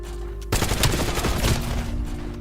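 Sniper gunfire in a multiplayer video game erupts abruptly after a quiet hum, a dense burst of loud shots and sharp cracks that keeps going to the end.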